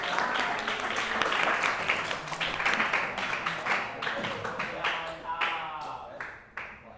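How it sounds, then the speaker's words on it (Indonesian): Applause from a school class, with scattered hand claps across the whole stretch that thin out toward the end, heard together with background chatter from the room. "Tepuk tangan."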